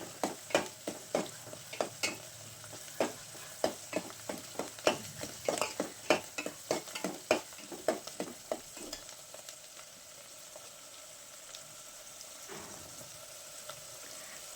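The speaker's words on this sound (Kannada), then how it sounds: "ಅದನ್ನು ಹಾಕಿ ಫ್ರೈ ಮಾಡಿ. ಎಣ್ಣೆಯಲ್ಲಿ ಎಲ್ಲ ಚೆನ್ನಾಗಿ ಫ್ರೈ ಆಗಲಿ." Ingredients frying in oil for uppittu (upma), a steady close sizzle broken by a rapid series of sharp spoon scrapes and knocks against the pan that fade after about nine seconds, leaving a quieter hiss.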